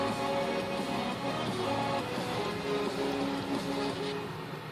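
Steady engine rumble of a BMW E46 pulling away and driving at night, a continuous low drone with faint road noise and no talking.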